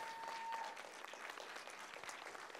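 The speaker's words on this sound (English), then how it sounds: "Everybody give him a huge hand of applause." Audience applause at a talk, a steady wash of clapping from a crowd, faint and somewhat distant, with a brief voice cue at the start.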